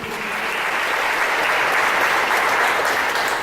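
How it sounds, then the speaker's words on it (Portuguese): A church congregation applauds in a steady, dense wash of clapping that swells slightly and holds for several seconds. "Vamos dar uma salva de palmas ao Senhor Jesus?"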